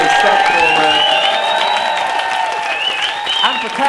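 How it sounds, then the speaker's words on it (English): An audience at a charity comedy improv stage show breaks into a big round of applause, with cheers and whoops rising over dense, steady clapping that slowly eases off. "Can we get a massive round of applause for the CMOs who've"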